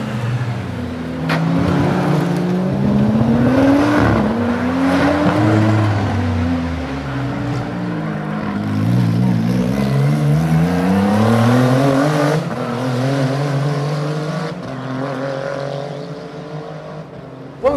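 Several race car engines rev and drone nearby at the Bangsaen Grand Prix street race, pitch rising and falling as they accelerate and shift gears, a continuous loud motorsport roar.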